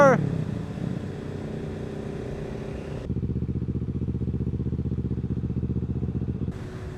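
A motorcycle engine in Portugal rumbles up close, shifting into a rapid throbbing idle that pulses evenly; a voice speaks briefly at the very start.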